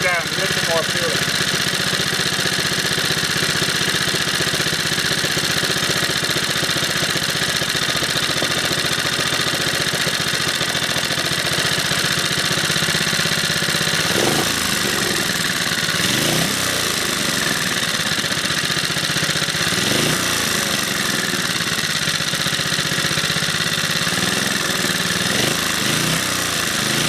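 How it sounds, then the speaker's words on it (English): A Briggs & Stratton 2hp small engine, bogging down and smoking, runs loud and close with a rough, steady chug, then revs up and down in several rising and falling swells in the second half. "Let's rev it up a little bit, see how it gets on."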